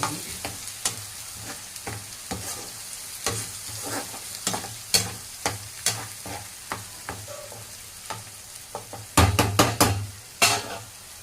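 Masala for a fish curry sautéing in a hot pan, a steady oily sizzle broken by repeated scraping strokes of a spoon against the pan, close and fairly loud, with a burst of sharper clatter near the end.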